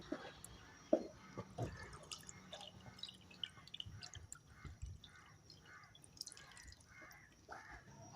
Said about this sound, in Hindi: इसमें 3 कप पानी ऐड करते हैं।